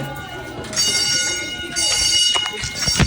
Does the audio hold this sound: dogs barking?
no